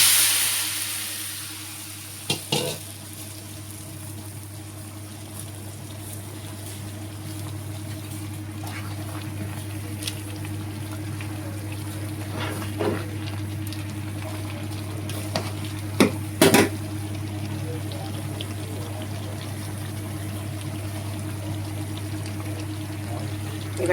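Jackfruit fries in a pan with whole spices like cinnamon, cardamom and bay leaf, giving a steady low sizzle, broken by occasional scrapes and clinks as it is stirred.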